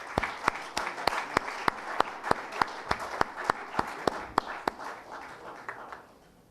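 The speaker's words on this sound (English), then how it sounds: "Please give him a big round of applause, Maharaj Jyotiraditya Scindia." Applause for a guest of honour at a formal session, about twenty sharp, evenly spaced claps standing out over a softer crowd patter that fades toward the end.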